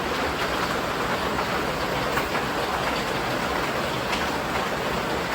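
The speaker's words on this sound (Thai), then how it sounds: "ฝนตก" Steady, dense rain hisses without a break, a constant wash of noise that stays even and loud throughout.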